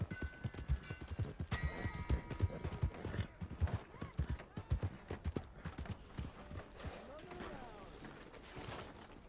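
Horse hooves clip-clop in Red Dead Redemption 2, a run of quick, even steps close by, mixed with other game sounds and people talking over them.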